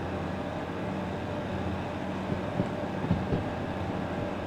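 A long, lightly loaded freight train rolls along in the video game Derail Valley, a steady low rumble with a couple of soft clanks, heard alone.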